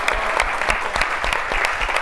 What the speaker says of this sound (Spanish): les quiero pedir un aplauso para Natalia y para el libro